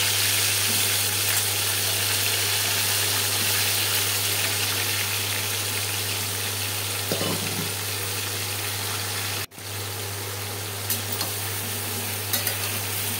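A mixer grinder whirs continuously and loudly, grinding spices into a fine paste for a Bengali katla fish curry. The even motor drone drops out briefly once, then resumes.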